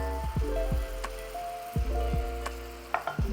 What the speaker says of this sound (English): a little bit of cream. You'll hear it bubble and go crazy.